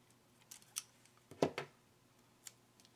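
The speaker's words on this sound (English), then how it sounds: "So I'm going to cut it down a little bit" Scissors snip paper pieces close by in a few quiet, separate cuts, with one louder double snip in the middle, in a quiet room with no talking.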